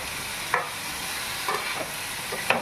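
Small kachki fish fry in oil with onions as a utensil stirs the pan, a steady hiss with a few sharp scraping strokes spaced about a second apart, close and alone with no talking.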